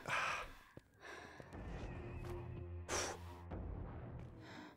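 Breathing and gasping from a female character in a Linux horror video game, heavy breaths and a sharp intake rising over a low droning music bed, fairly close but quiet.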